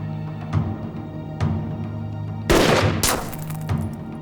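A pistol gunshot in a dubbed TV drama: one loud, sharp crack bursts out midway through, over a steady tonal background with softer thuds before it.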